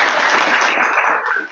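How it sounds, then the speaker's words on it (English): A burst of applause from a crowd, dense clapping that fades away toward the end. "Oh, round of applause."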